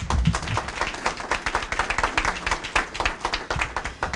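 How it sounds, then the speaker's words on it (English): A seated audience at a healthcare facility event claps in steady, moderately loud applause, a dense patter of many hands that keeps going without a break. "Can you all give Neil Moore another round of applause?"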